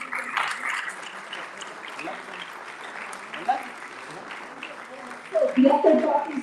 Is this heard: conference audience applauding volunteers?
yes